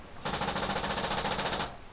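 An X7 paintball machine gun, triggered by a laser motion sensor, lets off a rapid burst of closely spaced pops for nearly two seconds, moderately loud and heard on its own.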